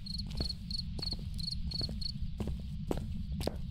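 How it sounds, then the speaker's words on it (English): Crickets heard indoors inside a building, a rapid repeating high chirp in short pulses over a low steady hum, with scattered soft clicks and taps. "Why can I hear crickets inside the building?"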